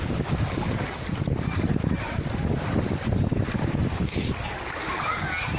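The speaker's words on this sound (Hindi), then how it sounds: "कंटिन्यूसली नहर बहता जा रहा है।" Floodwater from heavy rain rushes steadily down a street in Jeddah, Saudi Arabia, with splashing and gusty wind noise on the microphone, loud and close.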